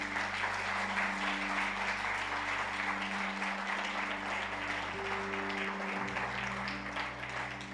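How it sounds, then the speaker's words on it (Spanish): A church congregation applauding during a sermon, a dense steady wash of many hands clapping that carries on for several seconds in a large room, with a low background hum underneath. "¿Le quieres dar un aplauso al Señor?"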